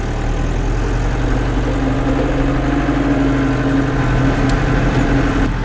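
A CLAAS Torion 738T loader sitting outside with its diesel engine idling to warm up, a steady low rumble and hum holding constant throughout with no talk.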